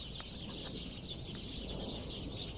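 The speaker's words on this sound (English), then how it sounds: "The little birdies chirping." Small birds chirp at dusk in a bamboo thicket in the jungle, faint scattered calls high over a steady, hissing evening ambience, with no one speaking.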